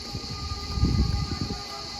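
A passing train sounds its horn in the distance near a seaside holiday spot in Shepsi, a steady sustained tone over a low rolling rumble.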